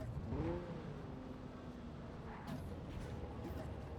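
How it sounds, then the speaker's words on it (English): Engine of a stolen Arasaka medical truck in the video game Cyberpunk Phantom Liberty, a steady droning hum that swells briefly at the start, with game background noise and speech-like sounds throughout. "Steal this Arasaka medical truck"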